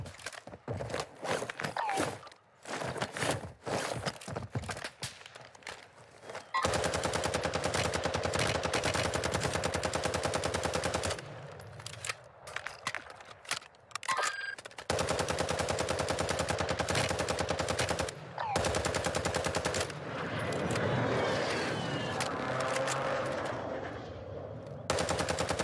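Rapid automatic gunfire in the shooter game Warzone, long sustained bursts broken by short pauses and scattered single shots, loud and up close, with some footstep-like movement sounds between volleys.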